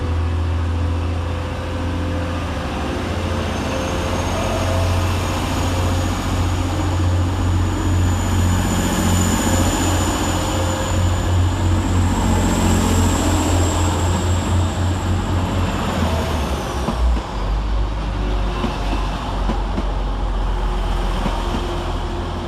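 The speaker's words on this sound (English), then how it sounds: "Next out for Transpennine Express is 185116 and 185139, working the 1300 service from Manchester Airport to Redcar Central via Manchester Victoria" Two coupled TransPennine Express Class 185 diesel units, 185116 and 185139, work through Manchester Oxford Road station. A loud steady low engine rumble builds with a high whine, then shifts pitch near the end as the train moves off.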